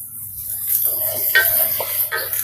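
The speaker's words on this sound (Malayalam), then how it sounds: "സവോള ഇവിടെ നിന്നിട്ട് നന്നായിട്ട് വഴന്ന് വരട്ടെ" Onions sautéing with salt in a pan for a prawn rice dish, a soft steady sizzle with light stirring scrapes and faint clinks, close and moderate, with no talking.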